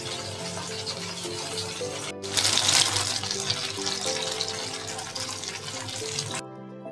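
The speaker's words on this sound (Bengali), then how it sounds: "কমিয়ে দিয়ে এবার আমি ভাজছি।" Taro slices, already coated with salt and turmeric, frying in oil on a gas stove over lowered heat, giving a steady broadband hiss and crackle that swells briefly partway through, with no talking.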